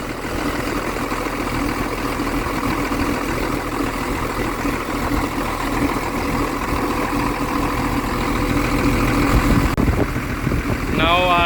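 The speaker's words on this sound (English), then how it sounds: "when we start machine, so always give maybe 5 minutes idle" Diesel engine of an excavator idling after service, with diesel mixing into the engine oil and a failed injector; a steady, loud low rumble continues throughout with a faint whine near the end.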